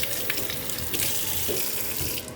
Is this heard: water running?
yes